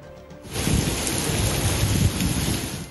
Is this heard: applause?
no